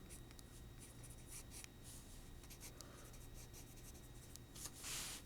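Pen writing a statistics critical value by hand on paper: faint scratchy strokes in short bursts, close but very quiet against a low room hum, with no talking.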